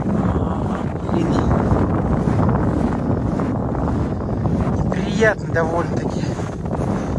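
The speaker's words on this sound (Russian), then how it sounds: "ветер прям обжигающий" Strong, bitingly cold wind at -26 blows across a frozen lake during ice fishing, a constant rough roar and buffeting against the microphone while someone speaks briefly over it.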